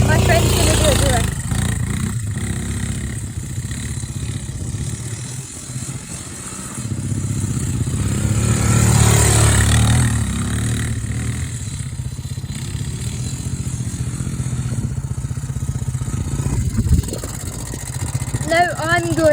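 A quad bike engine drones loudly and continuously as it drifts round in circles, the pitch swelling and easing with each push of throttle, with wind noise and a voice talking over it.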